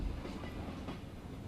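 Steady low rumble of a train in the video game Cosmonaut, a continuous rolling drone with faint rhythmic clatter running evenly throughout.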